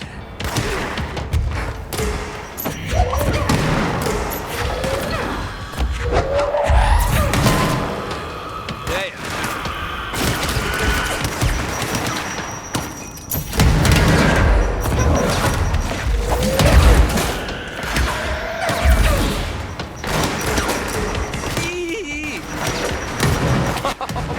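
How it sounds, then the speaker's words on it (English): Grenade explosions and gunfire in the video game Control, repeated booms and thuds crashing in dense bursts over continuous loud combat noise, with a voice talking at times. "Those grenades hurting anybody else?"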